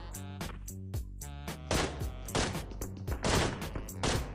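Rapid bursts of automatic gunfire ring out in a PUBG Mobile match, dense and repeated shots over background game audio with a faint voice.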